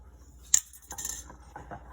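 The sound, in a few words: lid taken off sourdough starter jar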